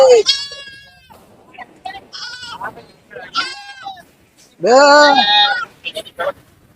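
Goats and young kids bleating at a goat market in Kunnathur, several loud close bleats, the longest and loudest near the end, with gaps between calls.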